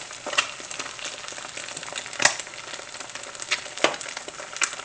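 Eggs fry in a pan for a Southern breakfast, giving a steady soft sizzle with occasional sharper pops and crackles, heard close and alone.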